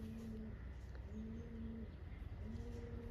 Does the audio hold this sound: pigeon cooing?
yes